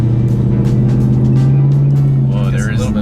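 Lexus RC F V8 engine and exhaust in Sport mode, heard from inside the car as a steady, loud low drone that rises slightly in pitch midway, with people talking over it.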